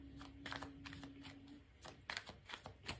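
Tarot cards are shuffled close up in quick, crisp riffling bursts, each a sharp papery flutter, with a faint steady hum beneath and no talking.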